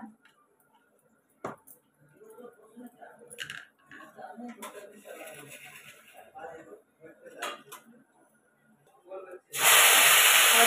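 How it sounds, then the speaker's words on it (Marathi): Coriander hits hot oil near the end with a sudden, loud, sustained sizzle, after a stretch of quiet kitchen clatter and a voice talking. "तेल गरम झालंय तर मम्मी त्यामध्ये कोथिंबीर टाकली आहे मस्त"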